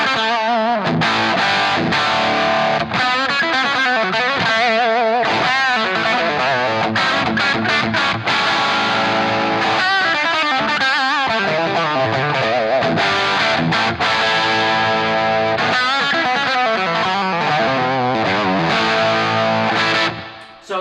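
Electric guitar played through a Marshall JCM 800 2204 amplifier, a loud, continuous run of mildly distorted chords and riffs with little sustain, filling about twenty seconds before cutting off.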